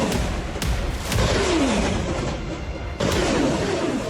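Artillery and rocket fire in war footage from the Thailand–Cambodia border clash: repeated heavy booms and thuds at irregular intervals, some sharp and close, over a dense rumbling background with faint voices.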